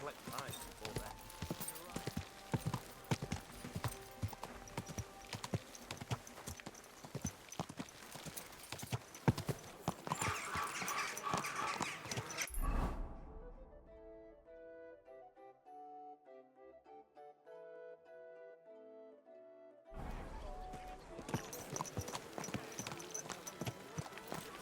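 A horse's hooves clip-clop along a street in Kingdom Come: Deliverance 2, a steady, fairly quiet rhythmic beat with voices talking over it, broken in the middle by a stretch of soft tonal music before the hoofbeats return.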